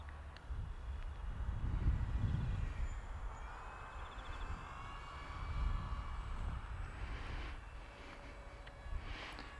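Mini Surfer 800 radio-controlled model plane flying slowly at cruising speed, a faint distant electric motor whine drifting and swelling over wind noise outdoors.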